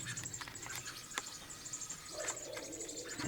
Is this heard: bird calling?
yes